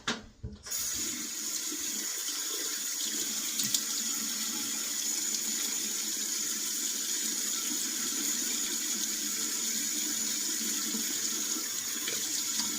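A bathroom tap runs steadily into a sink for a pre-shave face wetting, a close, constant hissing stream that starts abruptly after a brief handling sound and continues unbroken.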